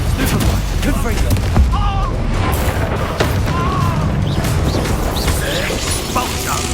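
A Confringo spell explodes in Hogwarts Legacy amid dense, continuous combat noise, with heavy booms and crashes layered over a loud mechanical rumble while character voices shout through the fight.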